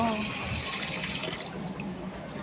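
Running tap water splashing steadily as someone is bathed on a hot day, a continuous wash of noise that thins slightly toward the end, with faint voices mixed in.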